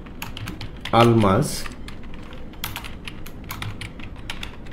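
Employee names are typed into an Excel sheet on a computer keyboard: a run of quick, close key clicks, briefly interrupted by one short spoken word.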